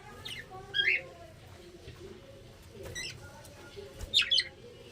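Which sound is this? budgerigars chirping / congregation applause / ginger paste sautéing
budgerigars chirping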